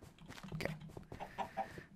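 Chickens in the video game Minecraft give soft, short clucks, several scattered bursts at low volume with no talking over them.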